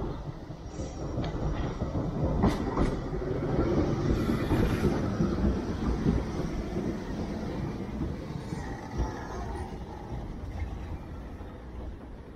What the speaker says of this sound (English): another noise from the train